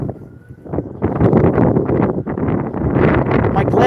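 Rough, gusty wind buffeting the microphone on a walk through Sheepshead Bay, a steady low rumble that swells after the first second and continues loudly to the end.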